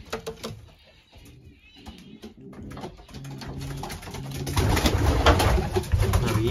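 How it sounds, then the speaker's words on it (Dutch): Young pigeons cooing in a loft, soft repeated low coos rising and falling, with scattered wing flutters and shuffling; activity grows busier and louder toward the end, no speech. "dan zijn we hier bij de jonge duiven"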